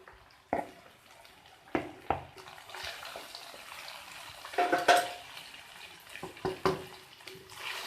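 A spoon stirring Chinese rice in a metal pot, with soft scraping and occasional clinks against the pot, close and moderately quiet, with no voices.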